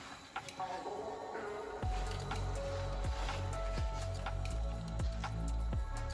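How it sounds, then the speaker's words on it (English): Oil drips out and runs down over the bearings of a running homemade machine, falling back into a tub. Wet, squishy drips sound over a steady mechanical hum, with a regular low thump about once a second. "the oil is dripping out and down over the bearings"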